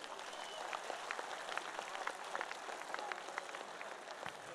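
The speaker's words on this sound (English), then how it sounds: "Please give a big round of applause for Zenon." An audience at a League of Legends esports tournament in Warsaw claps steadily, a dense wash of many hands heard from a moderate distance with scattered louder claps, continuous throughout.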